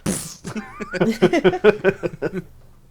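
A voice imitates a small, cute sneeze, followed by a quick string of rhythmic, chattering vocal sounds.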